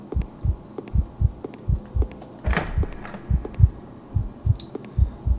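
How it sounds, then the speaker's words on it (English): A persistent heartbeat in the horror video game Dark Domination thuds in slow, regular double beats, loud and close, repeating steadily with faint ambient hum and a few soft clicks behind it. "There's a persistent heartbeat."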